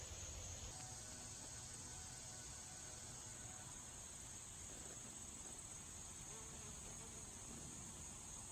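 Bees buzz faintly among flowering trees and shrubs in an arboretum, a soft steady insect drone over a quiet hiss, with no voices.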